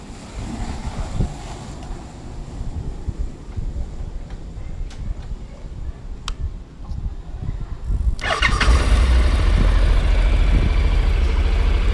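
A Honda NC700S motorcycle engine cranks and catches about two-thirds through, jumping from quiet rustling ambience with light wind to a loud, steady, close running rumble that holds to the end.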